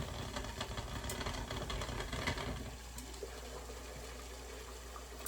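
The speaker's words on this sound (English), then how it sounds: "The water's boiling" Water boils while coffee is being made, a close, busy bubbling and hiss that is stronger early on and then settles into a quieter, steady simmer with no talking.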